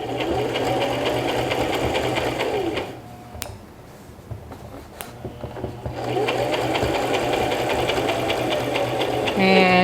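A sewing machine stitches a seam on a tote bag, a steady close mechanical whirr that pauses briefly midway with a few clicks and then resumes running.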